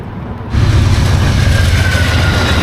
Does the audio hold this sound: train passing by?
yes